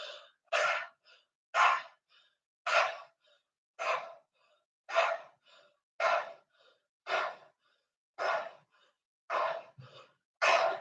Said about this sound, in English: So for 10 breaths, our thumbs are pointed in, arms are raised above our head, taking 10 pumping breaths.